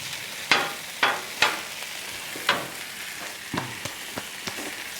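Onions and steaks frying on a Blackstone griddle: a steady soft sizzle with scattered sharp pops and spatters, close and alone, no talking.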